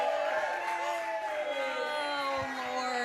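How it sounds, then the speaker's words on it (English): A crowd of audience members at a graduation performance cheers and whoops steadily, with voices mixed into the sustained noise. "Keep cheering, people. Keep cheering."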